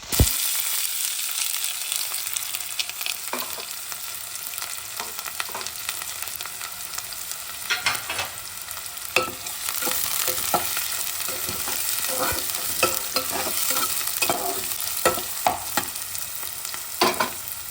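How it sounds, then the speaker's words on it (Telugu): Chopped onions frying in hot oil for a mutton curry give a steady, close sizzle with scattered crackles and occasional stirring scrapes, with no voices. "ఇప్పుడు మనం తరిగి పెట్టుకున్న ఆనియన్స్ వేసుకుంటాం"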